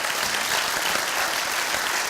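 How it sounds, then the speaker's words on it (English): An audience applauds a conference speaker at a startup event in Exeter, with dense, steady clapping from many hands filling the whole stretch without a break. "can we have a round of applause for Dupsy"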